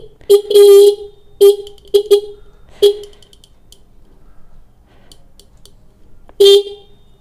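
A repaired sealed Minda car horn honks in short, loud blasts: a quick cluster of toots, then a long pause before one final honk.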